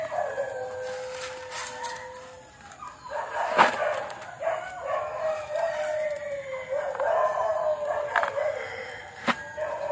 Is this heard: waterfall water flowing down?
no